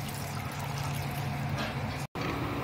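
A glass of water pours into a pressure cooker holding soaked chickpeas and a peeled potato, a soft steady splashing stream lasting a couple of seconds before a brief cut.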